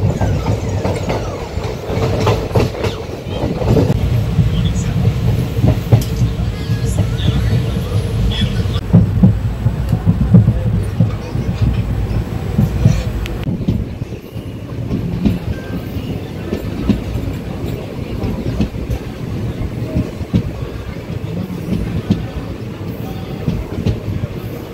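A passenger train runs on rails through green countryside on the way to Rameswaram, with steady rumbling and repeated clickety-clack of wheels on track joints heard from inside the carriage, with faint background voices.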